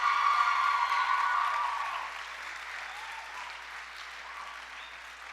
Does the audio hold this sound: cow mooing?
no